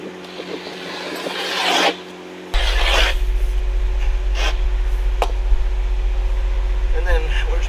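A sharp utility knife slices and rasps through the rubber roof membrane of an RV, giving scratchy, uneven cutting strokes over a steady low hum that starts partway through.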